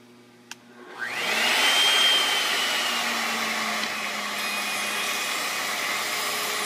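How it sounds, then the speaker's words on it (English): A trimming router table spins up with a click and a rising whine, then holds a loud, steady high-pitched roar as it cuts the skin off molded parts. "we move over to the trimming router table"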